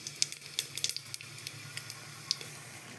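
Cumin seeds crackle in a drop of hot oil while khichuri is cooked, giving a soft steady sizzle broken by small sharp pops and spits, quiet and close with no voices.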